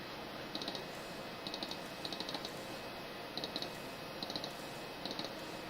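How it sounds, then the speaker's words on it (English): Computer mouse double-clicking on a desk, quiet paired clicks repeating in small bursts about once a second, near and faint over a steady background hiss, with no talk. "double clicking does it"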